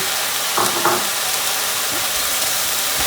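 Chopped capsicum and champignon mushrooms frying in a pan for bolognese spaghetti: a loud, dense, continuous hiss and sizzle close up, with faint stirring scrapes, no talk.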